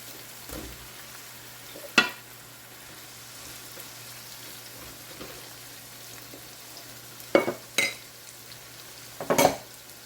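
Tuna frying in a pan for spaghetti al tonno, a steady low sizzle with a few sharp clinks and scrapes of stirring, fairly quiet and close.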